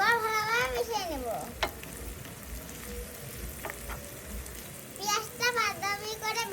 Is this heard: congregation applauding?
no